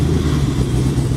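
An old engine fired up on a test stand, a short burst of loud, rough running with a steady low rumble and no voices.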